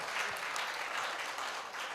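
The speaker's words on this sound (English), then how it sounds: "Why are you clapping?" An audience at a media festival session claps steadily, a dense, even wash of applause from many hands throughout, without voices over it.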